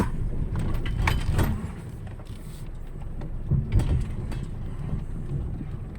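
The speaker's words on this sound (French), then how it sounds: "Hop, le différentiel verrouillé. On lâche l'embrayage et on laisse faire au ralenti." A 4x4 with a locked differential crawling a rough trail at idle with the clutch let out: a low engine rumble under clattering, creaking mechanical knocks and rattles, loudest in a couple of bursts, with no one talking.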